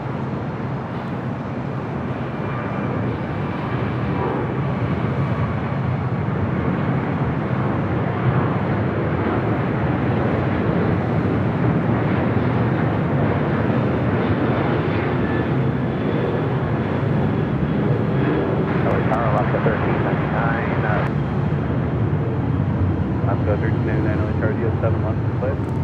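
A Finnair airliner arrives at LAX on runway 7 left, its steady broadband jet roar loud and continuous throughout, with radio-style voices talking over it.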